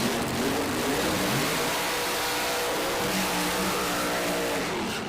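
A 1997 Dodge Ram pickup drag race truck at a drag strip revs its engine with a loud, sustained roar, no talk.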